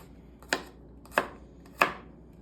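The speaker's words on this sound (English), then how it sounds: "We're gonna get some garlic." A knife chops garlic on a cutting board in three sharp, evenly spaced strikes, close and distinct against a quiet kitchen background.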